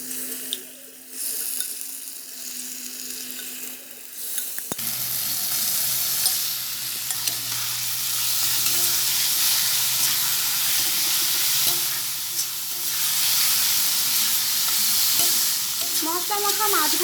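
Marinated prawns added to a pan of fried onion and tomato paste for prawn malai curry burst into a loud, sustained sizzle, stirred with occasional scraping clicks, close and without speech.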